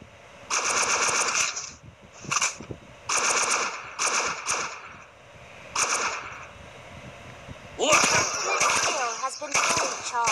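Rapid bursts of automatic gunfire from the mobile shooter game ShellFire, several loud rattling volleys separated by short pauses, with game sound effects and no speech.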